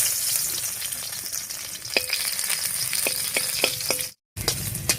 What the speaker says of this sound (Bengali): এবারে দিয়ে দিচ্ছি থেতো করা রসুন